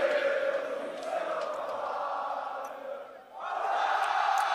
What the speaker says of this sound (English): the French crowd, you know, showing their support for Soaz and the rest of the team